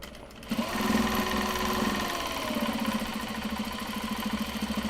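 A sewing machine stitches Japanese fabric bags with a close, steady whirring drone after a brief quiet start, holding a constant rhythmic buzz through to the end.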